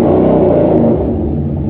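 A Yamaha Bolt motorcycle engine revs hard and close while being ridden, a loud, steady rumbling drone that eases to a lower throb partway through.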